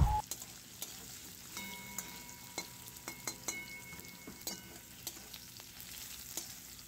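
Potato pieces fry lightly in oil for a vegetable paneer dish, giving a soft, steady sizzle broken by scattered ticks and clinks of stirring.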